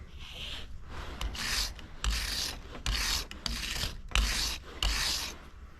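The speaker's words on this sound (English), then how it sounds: "Take a wire brush and just clean the face of that down real good." A wire brush scrubs the face of a part on a John Deere 7000 corn planter, sounding as repeated rough, raspy strokes in a steady rhythm, close and moderately loud with no talking.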